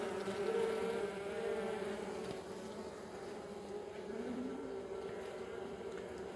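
A dense, steady buzzing of many honeybees droning together at close range around an open hive, continuous and unbroken, with no voices.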